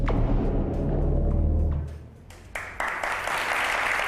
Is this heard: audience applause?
yes